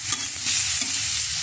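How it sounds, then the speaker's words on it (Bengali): Eggplant pieces fry in oil in a pan with a continuous, even sizzle, close and fairly loud. Light stirring textures are mixed in, and no one speaks. "বেগুনটাও হালকা করে একটু ভেজে নেব"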